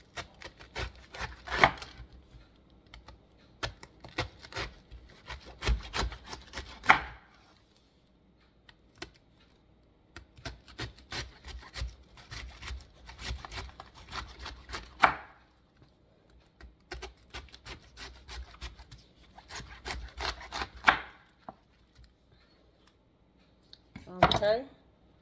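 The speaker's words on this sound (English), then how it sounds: "I'm gonna cut it like 1/2 inch slices." A knife slices cabbage into half-inch pieces on a cutting board, giving bursts of quick rhythmic chopping separated by short pauses, close and crisp, with a louder clatter near the end.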